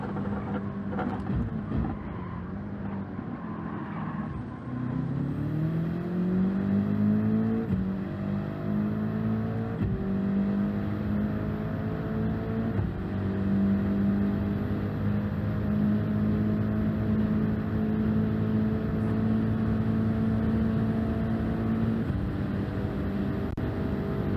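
Racing car engine in a video game, a steady droning whine that climbs in pitch through several gear changes and holds near top speed, continuous and loud throughout.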